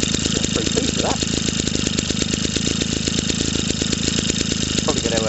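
A JAP Model 80 engine runs outdoors on its first run, its exhaust pointed at the ground over grass, firing in a loud, fast, steady stream of even pulses.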